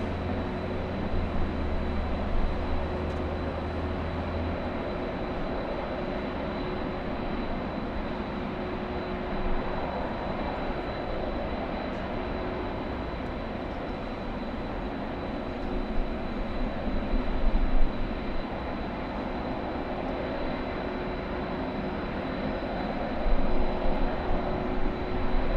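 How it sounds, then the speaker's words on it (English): A steady, droning roar from an airdrop plane that resembles a passing train, holding even through the stretch with a low hum and a few slight swells near the end, with no voices. "The airdrop plane sounds like a train."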